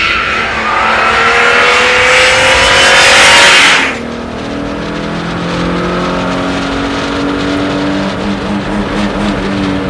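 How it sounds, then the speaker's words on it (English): A race car with a standard exhaust revs hard against its rev limiter, a loud, rasping, stuttering engine roar that cuts off abruptly, leaving a lower, steady engine drone with some tonal whine. "That's the rev limiter. Now, that's the rev limiter with a standard exhaust."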